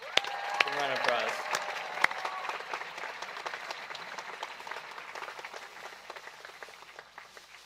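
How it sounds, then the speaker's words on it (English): Audience applause at a 2021 high school graduation ceremony, a broad wash of clapping that starts strong and slowly thins and fades over several seconds, with a few voices in the crowd. "Give them a round of applause."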